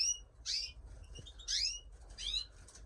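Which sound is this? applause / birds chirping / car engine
birds chirping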